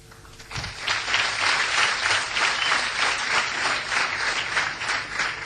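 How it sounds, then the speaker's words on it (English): Audience applause at a talk by Kamal Haasan at IIT Bombay's Avenues 2010 event, a dense, sustained crowd of clapping that swells quickly after a brief lead-in and holds steady at full strength throughout. "You're applauding yourself."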